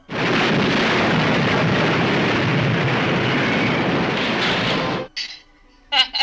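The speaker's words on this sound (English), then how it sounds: "Oh, because of the explosions." A long, loud rumbling roar of explosions from a Twilight Zone episode fills several seconds, then cuts out abruptly to near silence with a few brief sounds.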